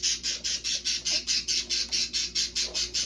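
Chickens squawk loudly and close by in a steady run of about fourteen even, evenly spaced bursts, with no other sounds over them.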